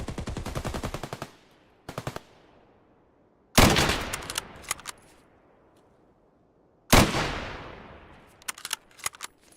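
AK rifle fire in Escape from Tarkov comes in three loud, sharp bursts of rapid automatic shots, each trailing off into a long echoing tail, with a few scattered single shots at the end.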